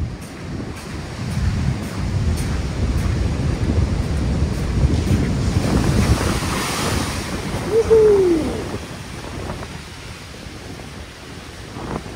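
Strong storm surf crashes and rushes over a flooded seaside embankment in Lazarevskoye, a continuous loud roar of breaking waves and churning water with wind buffeting the microphone and no voices.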